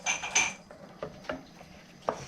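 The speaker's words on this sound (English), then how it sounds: "we're going to add our pectin and stir vigorously" A spoon clinks and scrapes against a pot as pectin is stirred vigorously into strawberry jam, a few sharp metallic taps followed by softer scraping.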